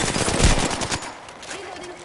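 Gunfire in Apex Legends, a short loud burst of rapid shots that fades into a quieter tail, with a voice faintly present underneath.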